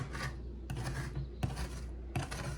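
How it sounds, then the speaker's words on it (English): A razor blade scraper scraping dried paint off a palette, three close, rasping strokes that each start with a sharp scrape and drag on briefly, no voices. "Scrape a little bit of this middle area off, and then I'm going to move to my other razor blade scraper to finish this up"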